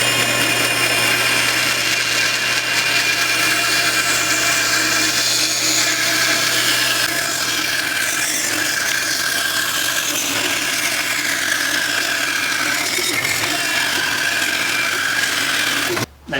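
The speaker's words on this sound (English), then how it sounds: "I can just quickly remove some of that material on my bandsaw." A bandsaw cuts through clamped cedar strips for canoe inwales, a steady loud rasping whine with a low motor hum that drops away midway, continuous and close until an abrupt stop at the end.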